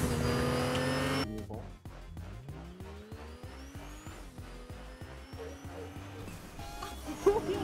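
A car driven in the Fortnite video game, engine hum with pitch rising as it accelerates and a rhythmic pulsing over game music and effects, while players talk throughout.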